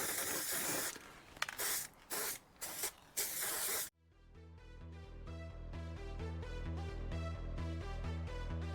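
Cavity wax with rust preventative is sprayed from an aerosol into the inner wing of a Vauxhall Royale Coupe under restoration. Several short, close hissing bursts come one after another, then music takes over.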